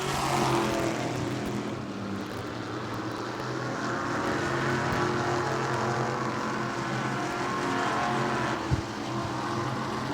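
Modified race cars lapping the track at New Smyrna during a Mod race, a steady loud engine roar that carries throughout with little change in level.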